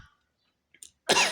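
A person lying in bed coughs, with a faint breath and a small throat sound first, then one loud, harsh cough burst close to the microphone at the end.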